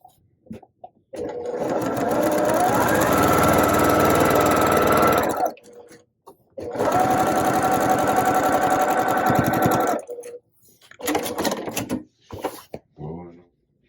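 A sewing machine stitches a quarter-inch seam joining quilt half-square triangle edges, running in two long steady bursts of about four seconds each, then a few short stop-start runs at the end.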